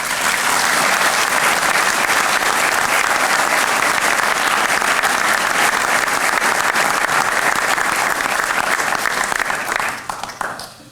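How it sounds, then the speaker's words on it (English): Sustained audience applause for firefighter academy instructors at a fire department recruit graduation ceremony, loud and steady clapping from a large crowd for about ten seconds before tapering off at the end. "Please give these dedicated firefighters a round of applause."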